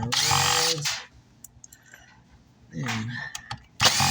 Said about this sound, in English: Sorry about the noise of the drill guys for now.